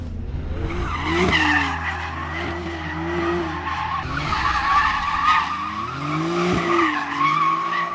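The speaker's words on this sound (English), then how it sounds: "donuts are possible with stability control turned off" A Porsche 911 Turbo S spinning donuts with stability control off, its tires squealing and skidding in repeated sweeping waves over a steady engine roar, loud and close.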